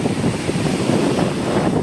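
Waves wash steadily onto a sandy, rocky shore, a continuous close roar of surf mixed with wind rumbling on the microphone, and no voices.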